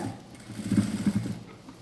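A sewing machine runs a short burst of stitching along the edge of a boat-neck blouse, a quiet rapid whirring that swells briefly and then fades.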